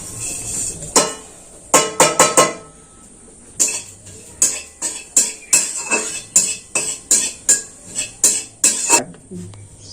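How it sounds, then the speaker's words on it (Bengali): Coriander, fennel, cumin and dried red chillies dry-roasting in a pan, heard as a series of sharp clattering scrapes and knocks from stirring against the metal, with brief pauses between them. "এই মশলাটা শুকনো খোলায় ভেজে নিচ্ছি"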